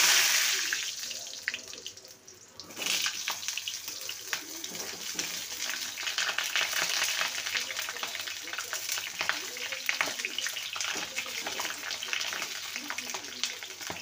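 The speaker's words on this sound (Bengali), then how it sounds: "কড়াইতে তেল দিয়ে দিয়েছি, এবার পটলগুলোকে ভেজে নেব।" Pointed gourd pieces fry in hot oil in a wok, giving a steady, close, broadband sizzle that carries through the whole stretch with faint scraping from stirring.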